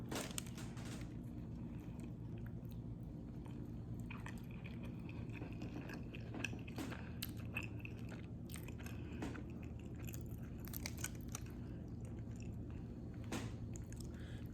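Someone bites into and chews a homemade chicken and black bean burrito in the Chipotle style, with soft squishy bites and occasional crunches up close over a steady room hum, and no talking.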